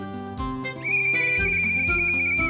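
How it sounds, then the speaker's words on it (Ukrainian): A cartoon whistle sounds as one long, bright, steady tone lasting well over a second over a lively musical backing, preceded by a few short chirps. "Знову свисток."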